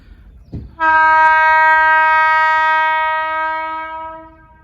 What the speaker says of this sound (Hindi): यहाँ पर ये DFC की एक ट्रेन आ रही है